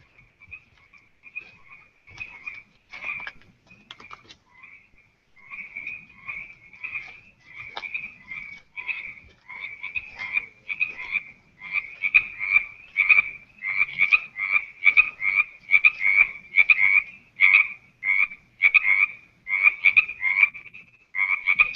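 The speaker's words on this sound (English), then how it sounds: "So as you can hear the frogs in the background" Frogs croak in a natural spot at Point Roberts, a chorus of rhythmic, raspy calls that starts sparse and grows denser and louder, repeating in quick pulses against an otherwise quiet background.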